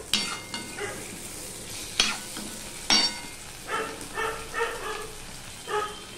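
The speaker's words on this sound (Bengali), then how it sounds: "আলু পেঁয়াজটা ভাজা হয়ে গেছে। এবারে যে আমি টমেটোটা কেটে রেখেছি সেই টমেটোটা দিয়ে দিলাম" Chopped tomato goes into a pan of frying potatoes and onions, while fish cooking is under way. A steady sizzle runs throughout, broken by several sharp stirring scrapes and clatters, and no one speaks.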